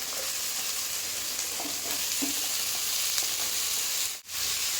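Taro stems sizzle and fry steadily with spices in a hot pan, a continuous near hiss with faint stirring clicks, no talk.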